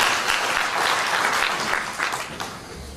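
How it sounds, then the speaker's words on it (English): A gala dinner audience gives a dense, continuous round of applause, many hands clapping at once in a full, even wash for the whole stretch with no voices standing out. "give yourselves a nice round of applause for warm up"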